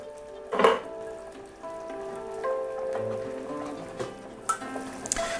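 Beef barley soup simmering in a covered pot gives off a soft, steady bubbling sizzle at moderate level, with a few brief clinks and a louder rustle near the start, no talking.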